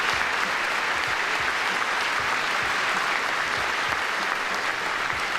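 Sustained, dense applause from a large audience at the State of the Union address, steady and loud throughout with no speech over it.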